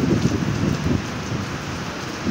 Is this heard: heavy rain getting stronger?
yes